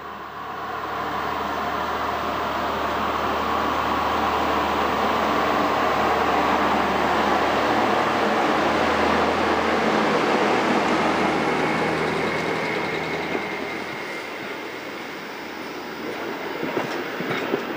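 A train sets off toward Süderbarup and keeps running, a loud, continuous rumble with rail clatter close by that holds steady before easing a little toward the end.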